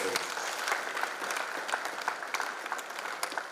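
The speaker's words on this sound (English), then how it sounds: "So let's clap for the school." Audience at a career event in Kumasi claps steadily and evenly throughout, a dense wash of handclaps with a voice faintly audible beneath.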